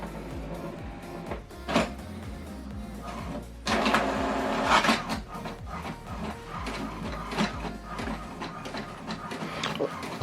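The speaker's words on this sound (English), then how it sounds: "what it's doing now is printing the welcome information that I sent to this printer" HP Deskjet all-in-one wireless printer running a print job: soft mechanical whirring with shuttling carriage sweeps, clicks and paper-feed bursts, fairly quiet and continuous, with a faint voice in places.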